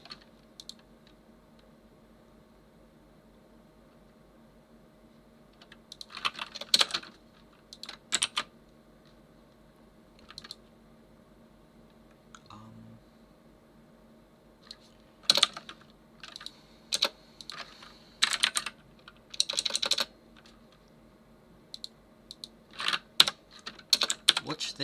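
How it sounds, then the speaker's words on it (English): Clattering bursts of typing on a loud computer keyboard come in irregular clusters of rapid keystrokes, separated by quiet pauses, fairly close and crisp. "Is the keyboard loud?"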